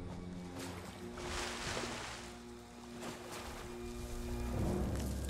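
A Carnotaurus wades across a river in The Isle with soft, swelling sloshes and splashes of water that rise and fall in gentle surges. The water is fairly faint and close.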